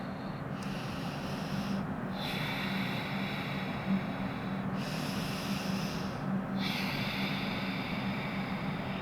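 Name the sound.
heavy breathing during yoga holds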